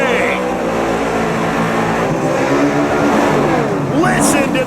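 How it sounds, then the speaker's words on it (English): Chevy and Ford drag race cars at a street nationals event roar and rev continuously, loud and close, with a rising whine near the end and an announcer talking over the engines. "Listen to the Chevys and the Fords."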